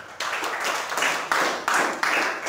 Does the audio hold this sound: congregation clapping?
yes